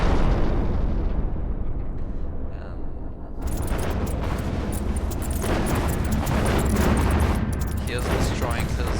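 Cannon fire and explosions in a space strategy video game burst out in dense, crackling volleys, with a muffled stretch before a sudden loud onset, while a player talks over the action.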